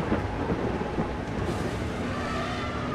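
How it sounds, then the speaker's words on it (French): Rumbling thunder with steady heavy rain during a storm in the video game Far Cry Primal, a dense continuous roar with wind, loud and alone throughout. "C'est la tempête."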